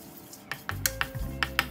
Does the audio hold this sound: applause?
no